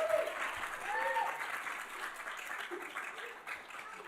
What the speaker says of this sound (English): Another big round of applause for Matthew.